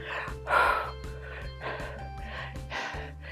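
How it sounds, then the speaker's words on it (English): A woman breathes heavily during a low-impact HIIT cardio workout, with repeated deep, audible exhales blown out through the mouth close to the microphone. A steady low background hum runs underneath. "You can hear it in my breathing."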